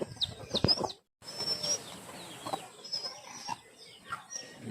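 Native chickens on a Philippine farm plot, with scattered clucks and soft chirps at close to middle distance, a short burst of wing flapping near the start and faint ambient noise throughout.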